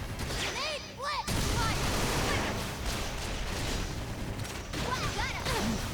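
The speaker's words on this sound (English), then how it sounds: "Grenade blitz." Grenade blitz explosions crack and boom in Xenoblade Chronicles X combat, a dense run of bursts under game music and chiming cues, with a short lull near the start.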